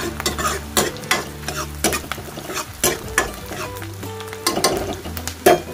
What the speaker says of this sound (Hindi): अब हम इसको हल्का सा कच्ची से घुमाएंगे, हल्की सी कच्ची को चलाएंगे